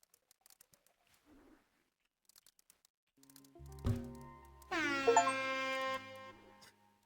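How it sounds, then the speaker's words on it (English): In the video game Paradise Marsh, after scattered soft clicks and taps, a loud, blaring air horn sounds for about a second, harsh and tonal, following a brief thump. "Was not expecting the air horn."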